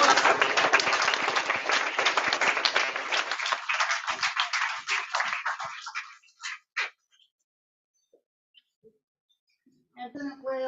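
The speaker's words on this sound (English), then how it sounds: "One more round of applause." Audience applause at a board meeting, dense clapping from many people that thins out around six seconds into scattered claps, then silence before a few faint voices or taps at the end.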